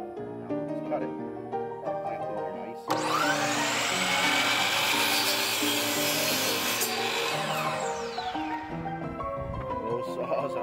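A power saw cuts material for a screen door, starting abruptly after a few seconds of other noise and whining loudly and steadily for about five seconds before winding down, with faint background sounds around it.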